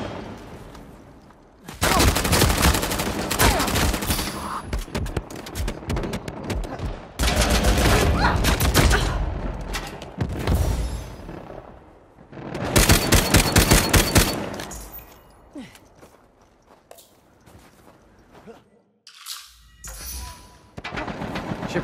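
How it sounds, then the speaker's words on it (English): Gunfire in Uncharted 4 multiplayer, heavy bursts of rapid automatic shooting and explosions in long loud volleys, separated by quieter gaps, with some brief speech in the mix. "Should probably just follow the gunfire."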